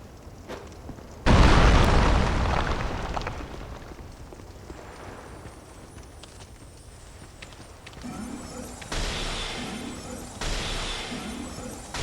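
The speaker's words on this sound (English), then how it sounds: "Okay, now we should be able to break this wall. Let's throw on a bomb." A bomb blasts through a breakable wall in Dark Souls 2, a single loud, near boom that rolls off into a long rumbling decay, followed by fainter game effects and chimes, with no talk.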